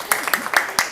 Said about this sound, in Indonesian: Tepuk tangan dulu buat Aji.